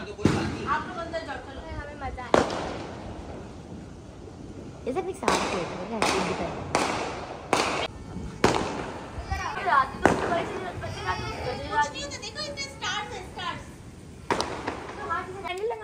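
Fireworks boom and crack in repeated bursts at an outdoor Independence Day festival in Emaar, some sharp and close, with crowd noise and people talking throughout.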